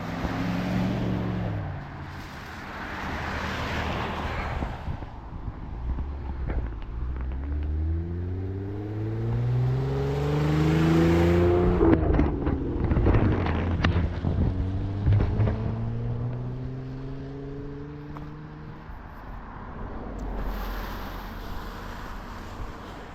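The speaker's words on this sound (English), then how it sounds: "So we'll wait for the traffic here." Cars passing on a road during a walk in Maine, loud swelling engine and tyre noise rising and falling as vehicles go by, with rushing wind buffeting the microphone throughout.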